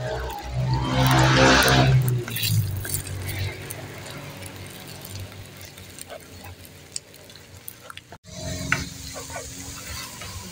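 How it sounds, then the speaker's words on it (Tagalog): Beaten egg cooking in a pan with a soft sizzle and steady stirring scrapes, a louder burst of frying near the start and a few light clinks later, with no talking over it. "Then lulutuin natin yung ating binatil na egg."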